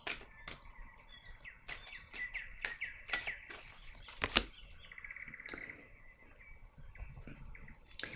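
Tarot cards set down on a table one after another, a run of sharp, close papery taps and light slaps with soft shuffling between them, fairly quiet overall.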